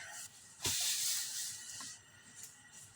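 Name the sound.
cooking oil sizzling in pan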